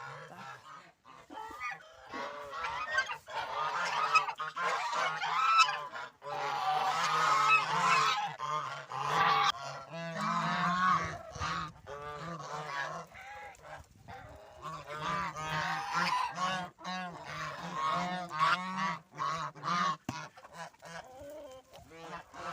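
A flock of geese in a village in western Ukraine honks continuously and loudly close by, harsh overlapping calls filling the whole stretch with hardly a pause.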